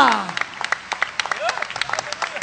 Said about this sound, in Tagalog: isang malakas na palakpak sa ating mahal na Panginoon